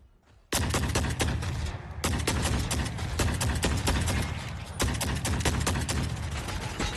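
Sustained heavy automatic gunfire in the video game The Forever Winter, loud and dense, bursting in after a quiet start and rattling continuously for several seconds with brief stutters between volleys.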